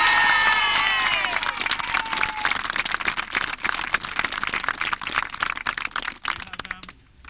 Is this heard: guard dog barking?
no